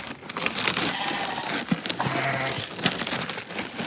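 Sheep and goats bleat at a farm during chores, several close calls overlapping amid rustling and shuffling, with no clear talk.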